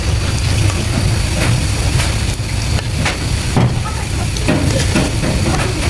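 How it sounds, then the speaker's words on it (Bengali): Radish leaf fritters fry in hot mustard oil in a kadai, filling the sound with a loud, continuous dense sizzle and crackle that barely varies over several seconds. "এই তেলটা যখন গরম হবে তখন আমি মূলা শাকের বড়া ছাড়বো"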